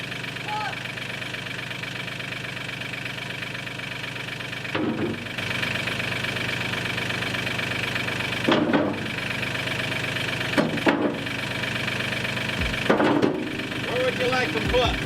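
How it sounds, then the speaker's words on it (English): A tractor engine idles in a steady, close drone at a trench backfill site, broken by a few short knocks and thumps. "All right, let me get the tractor."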